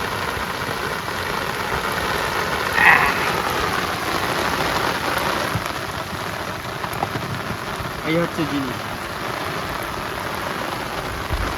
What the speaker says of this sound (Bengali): আবার বৃষ্টি চলে